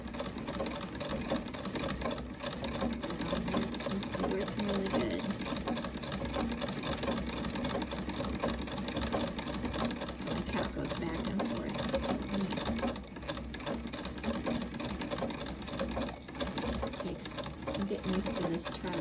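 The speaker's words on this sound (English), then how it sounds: "Winding the bobbin on this treadle." A 1900s National treadle sewing machine winding a bobbin runs at a steady mechanical whir with a continuous rattling clatter, fairly close and unbroken throughout.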